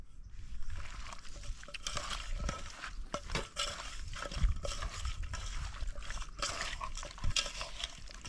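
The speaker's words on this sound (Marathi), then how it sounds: "आता हे मिक्स करून घेऊ." Delicate fish stirred outdoors at a camp with ginger-garlic paste and oil: wet, squishy sloshing and soft scraping, continuous and fairly close, with faint ambient noise around.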